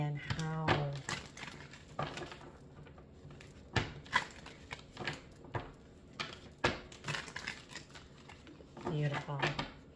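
A deck of cards is shuffled at a table in a series of quick riffling bursts and soft taps scattered across the stretch, close and moderately loud, with a voice talking in between.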